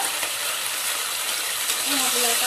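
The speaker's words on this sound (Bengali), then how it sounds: "দিয়ে ভালো করে মশলা কষিয়ে নিচ্ছি।" Ground cumin, Kashmiri red chili powder and turmeric stirred and frying in a pan for a Bengali khichuri gravy: a steady, close sizzling hiss with soft scraping of the spoon throughout.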